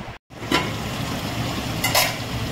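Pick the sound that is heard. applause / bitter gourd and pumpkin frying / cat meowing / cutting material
bitter gourd and pumpkin frying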